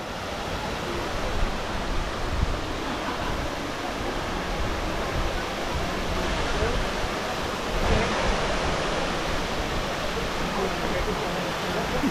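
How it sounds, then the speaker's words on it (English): Water from the waterfalls at the Vigeland Park fountain in Oslo makes a continuous broadband rush, steady and fairly close. "I'm here in front of the waterfalls here"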